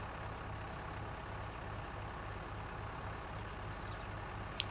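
A tractor engine runs in Farming Simulator 19, giving a steady low idling drone with a faint regular throb, fairly quiet and unbroken, with one tiny click near the end.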